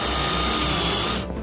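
Power drill spinning a paddle bit through the top and bottom rails of a pressure-treated wood deck railing, a steady loud whine that holds for over a second and then cuts off abruptly near the end.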